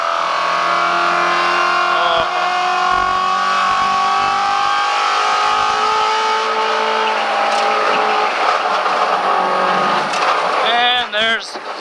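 Car tires on Cup 2 rubber squeal at the grip limit on a race track while the engine drones loudly under acceleration, with a rising whine and sharper tire chirps near the end.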